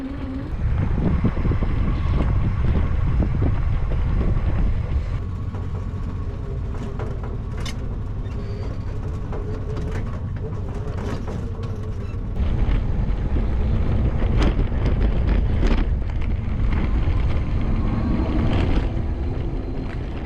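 A Mule utility vehicle drives along with a steady low engine drone, heavy wind buffeting the microphone and occasional knocks and rattles, loud and continuous.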